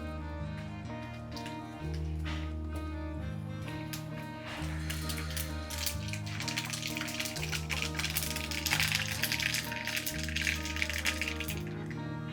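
Mustard seeds splutter and pop in hot coconut oil, a dense, quiet crackle of rapid ticks that grows busier over several seconds, with a steady tonal hum underneath.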